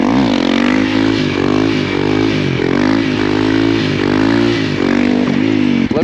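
A motorcycle engine revving hard during a wheelie, loud and close with a rough, throbbing drone that swells and dips through the throttle changes, constant without pauses.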